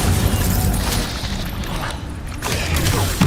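In the Hogwarts Legacy video game, the Incendio fire spell is cast amid dense, noisy combat, with a continuous roaring, crackling burst that swells and fades, layered with thumps and mechanical clatter, and no clear talk.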